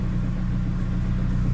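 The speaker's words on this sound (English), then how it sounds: "That was an automatic turbo timer" A turbocharged minivan engine idles under an automatic turbo timer after shutdown, a steady, close low rumble with an even throb and no voices.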